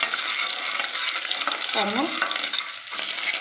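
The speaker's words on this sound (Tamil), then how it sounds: "இந்த நறுக்கி வச்ச வெங்காயத்தை ஃபஸ்ட்டு போட்டுக்கோங்க" Chopped onions frying in oil for bisi bele bath: a close, continuous sizzle with faint stirring scrapes, and a brief voice speaks midway.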